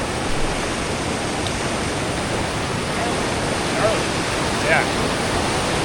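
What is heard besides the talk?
fast-flowing river in Banff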